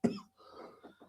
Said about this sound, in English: As I cough over here